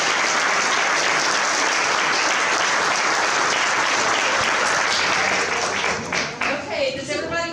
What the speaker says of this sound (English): let's get ourselves a big round of applause